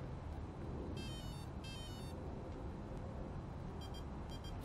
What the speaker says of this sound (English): Once you hear three beeps, go to neutral.